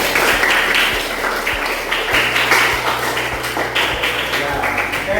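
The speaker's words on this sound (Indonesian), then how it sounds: "Oke, beri tepuk tangan dong." Students in a classroom clap together, a dense burst of hand claps with sharp taps mixed in, loud and close, over a background of voices.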